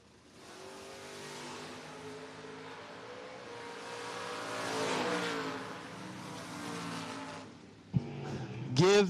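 A Camaro and a pickup truck launch side by side at a drag race, engines roaring loudly and steadily for several seconds, swelling midway, then sharp revving bursts and squeals near the end.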